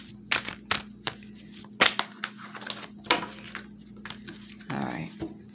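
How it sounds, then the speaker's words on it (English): Quick crisp riffling and snapping bursts of playing cards being shuffled, several short clusters close by, with light clatter between them and no talking. "let me just do a quick shuffle on the regular deck"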